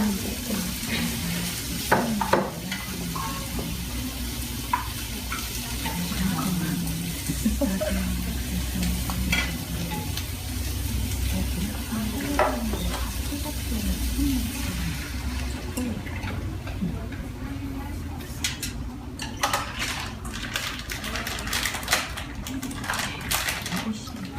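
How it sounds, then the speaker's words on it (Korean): Food stir-fried in a pan with coconut milk and water added, a steady low sizzle and bubbling with scraping stirs and utensil clicks throughout, voices talking over it. "저희들이 볶아줬으면 코코넛 밀크 넣고 물도 종량 넣어주고요."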